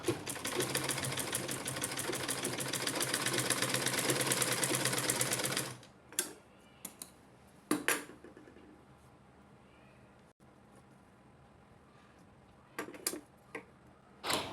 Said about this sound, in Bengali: এটা হচ্ছে এক সাইডের সেলাই